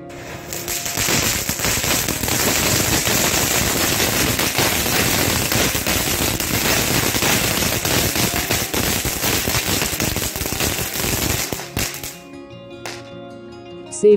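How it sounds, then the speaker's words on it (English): A 100-shot crackling firework battery fires a dense, continuous barrage of loud crackles and pops for about twelve seconds, then stops abruptly, leaving faint scattered crackle and quiet. "100 Riffles Crackling."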